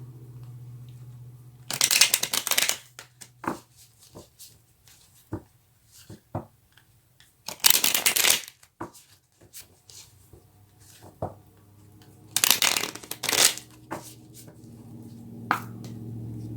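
Tarot cards being shuffled in three separate riffling bursts, close and crisp, with light taps and card handling between them over a low steady hum.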